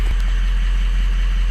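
A Ford Powerstroke diesel engine idles with a steady, loud, close low rumble. The engine is fitted with ARP head studs and is pushing out coolant.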